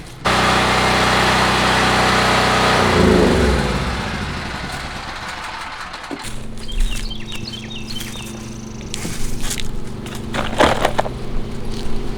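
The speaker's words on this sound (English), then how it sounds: "Let me turn this generator off real quick." A portable generator runs at an off-grid solar setup, a loud steady droning hum that fades and drops away midway, leaving quieter ambient noise with faint bird chirps and occasional clatter.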